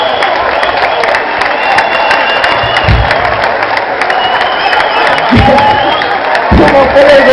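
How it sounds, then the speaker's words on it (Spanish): At a motorcycle club gathering, a crowd claps in steady, sustained applause with some cheering, while people talk over it. "Yo creo que se merece un aplauso."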